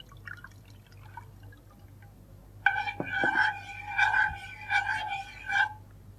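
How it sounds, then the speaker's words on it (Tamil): Coconut milk pours into a cooking pot after a quiet start, with close liquid splashing and trickling plus a few sharp drips. "தேங்காய் பால் ஊற்றிடலாம்."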